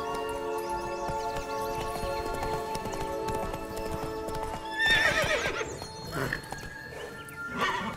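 Roach, a horse in the video game The Witcher 3, clip-clops along at a gallop with a whinny, over a steady layer of game music and ambience, with louder hoof and rider sounds building toward the end.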